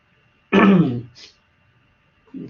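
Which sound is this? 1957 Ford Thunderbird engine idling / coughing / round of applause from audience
coughing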